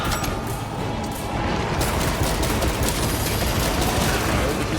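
Bolt pistol fire in Warhammer 40K Space Marine 2 hammers out as a dense, continuous volley of loud close gunshots, layered with other combat noise throughout.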